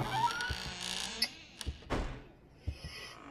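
A door opens in the horror game P.T., with a few dull thuds and knocks in a quiet, hollow room, a low hum underneath and nobody talking.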